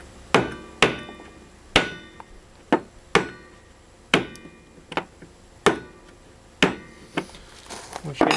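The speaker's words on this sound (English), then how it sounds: "this is where you need a small ball peen hammer to start this 1/2-inch pipe" Sharp metallic blows from a small ball peen hammer starting a 1/2-inch pipe strike at an uneven pace, about a dozen ringing taps close by, with quiet gaps between them.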